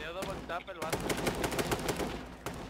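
H1Z1 gunfire pops in quick, repeated automatic shots, loud and near, mixed with someone talking excitedly.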